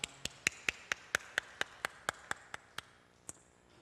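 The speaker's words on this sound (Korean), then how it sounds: "하나님께 영광의 박수" A church congregation claps together in a quick steady rhythm, about a dozen crisp synchronized claps that slow and fade out over a few seconds, with a faint voice and ringing tone underneath.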